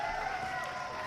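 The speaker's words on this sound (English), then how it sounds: "They're cheering way too hard." A large crowd cheers and applauds hard, making a steady, dense wash of clapping and shouting that holds at full strength for the whole second.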